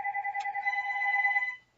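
A single electronic phone ring, a bright steady two-tone trill lasting about a second and a half before cutting off, heard alone and close.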